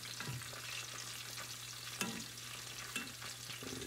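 Salt and pepper chicken wings frying in oil at about 300 degrees, a steady soft crackling sizzle with a few sharper pops, no voices.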